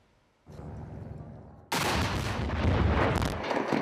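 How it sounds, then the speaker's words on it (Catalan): A controlled explosion brings down the Radio Liberty antennas on a Costa Brava beach: a low rumble begins, then a sudden loud blast gives way to a sustained roaring crash and debris noise, heard from a distance. "Així queia, amb una explosió controlada, tot un símbol de la Guerra Freda a la Costa Brava"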